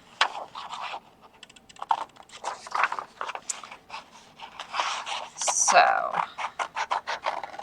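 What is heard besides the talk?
cutting blue paper with small kid scissors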